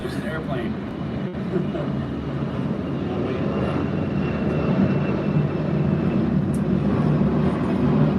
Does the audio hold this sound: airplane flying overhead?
yes